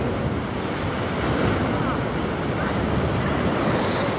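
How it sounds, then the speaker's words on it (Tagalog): Loud ocean surf breaking on the shore during a fishing outing, a constant roaring wash with heavy wind buffeting the microphone throughout. "Ah, malupit ang alon, malupit. Nagkahagupit ng alon."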